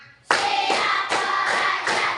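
Five evenly spaced bursts of group hand clapping from a schoolroom class in Indonesia, close and loud, each clap ringing briefly while young voices chant the count in rhythm.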